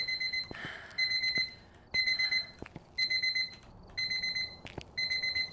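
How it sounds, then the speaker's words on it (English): Alarm going off in a ghost hunting video game, a repeated high electronic beeping in short bursts separated by brief gaps, fairly quiet over a dense background with a few sharp clicks. "Is that another alarm?"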